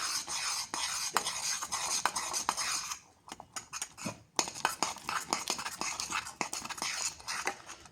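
Cocoa powder and cocoa beans are stirred in a pot, a steady near scraping and clinking of a utensil against metal that pauses briefly midway, then resumes with sharper taps.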